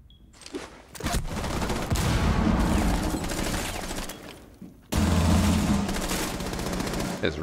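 Sustained automatic gunfire from the tactical shooter game Rainbow Six Siege, a loud, dense burst of rapid shots running for several seconds, briefly breaking off and then resuming just as hard.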